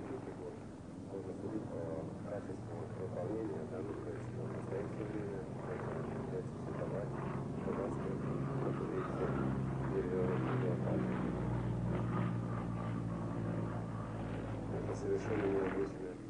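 A Yakovlev Yak-55 aerobatic plane flies with a steady propeller-engine drone that stays constant throughout, heard under continuous narration.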